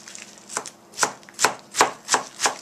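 Knife chopping spinach and chives on a cutting board, about six crisp, evenly spaced close-up strokes with no talking.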